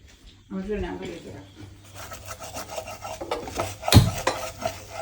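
Egg fried rice being stirred and tossed in a pan, with scraping and rasping strokes of a utensil against the pan and one sharper knock near the end, heard under someone talking.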